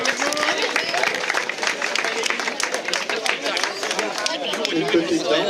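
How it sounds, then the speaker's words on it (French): Crowd clapping for the carriers at the Ducasse du Grand K'min procession in Maffle, mixed with lively chatter and hubbub from people nearby, fairly loud and continuous throughout. "on peut les applaudir très fort"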